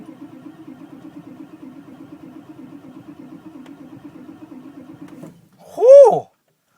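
A 7.3 IDI diesel engine, a cold start without the block heater plugged in. The starter cranks fast and steadily for about five seconds, then the engine catches with a brief loud roar before the clip goes silent.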